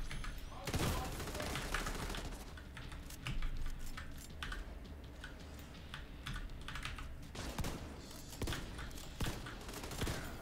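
Video game gunfire in The Division 2, rapid bursts of shots crackling close and loud throughout, over an ongoing clatter of keyboard typing.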